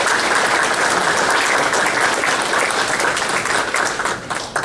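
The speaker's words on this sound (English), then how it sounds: "Let's give a big round of applause." Loud, dense audience applause at a university sports hall of fame induction ceremony, continuous clapping from a large crowd filling the hall.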